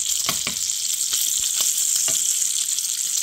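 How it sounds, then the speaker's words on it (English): Bacon fries steadily in an antique Griswold cast iron skillet, with a continuous sizzle running the whole time and a few sharper pops and spatters. The fat crackles up close and no one speaks. "I like to cook my bacon up"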